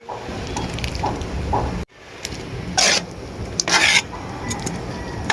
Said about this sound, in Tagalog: Paghaluin lang naman natin to ng maayos hanggang sa mailagay na nga natin itong mga Kamyas.